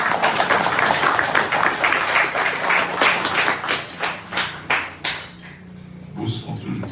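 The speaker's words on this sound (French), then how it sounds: "On applaudit une fois de plus," An audience gives a dense burst of applause at a Haitian consulate tribute to a Haitian football club in Boston, and the clapping thins into scattered claps toward the end.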